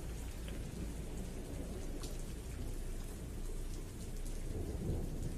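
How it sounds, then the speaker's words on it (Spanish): Heavy rain falls steadily in a thunderstorm, a dense close hiss with a low rumble of thunder underneath, continuous and even for the whole stretch. "Oyes los truenos y la lluvia."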